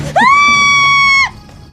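A person screams in fright in a drama scene, one loud sustained high-pitched shriek lasting about a second that cuts off abruptly, close and alone.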